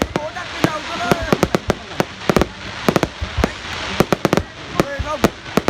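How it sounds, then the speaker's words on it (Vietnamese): Fireworks celebrating the 2024 Lunar New Year (Year of the Dragon) burst in rapid, irregular pops and crackles over a continuous noisy wash, with a crowd murmuring underneath. "Bắn pháo hoa chào mừng xuân Giáp Thìn năm 2024"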